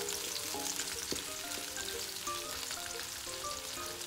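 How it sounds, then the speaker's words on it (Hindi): Onions frying in ghee for a mixed vegetable curry, a soft, steady sizzle with light crackles and faint clinks of a utensil stirring the pan, no talking. "अब हम इसमें प्याज ऐड कर देते हैं। सब्ज़ी थोड़ी हमारी ज़्यादा है, इसलिए हमने ज़रा ज़्यादा घी ऐड किया है।"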